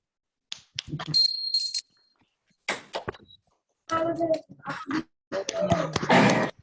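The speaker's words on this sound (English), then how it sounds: "while I ring the bell for the final time" A bright bell rings in short bursts at the close of a review meeting, mixed with knocks and clattering handling noises, broken by brief pauses.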